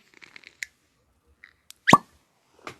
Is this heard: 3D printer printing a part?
no